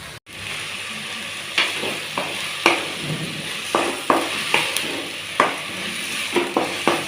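Ingredients sauté in a pan for a crab gravy, a steady sizzle punctuated by repeated sharp stirring scrapes and clinks at an uneven rhythm, close and moderately loud.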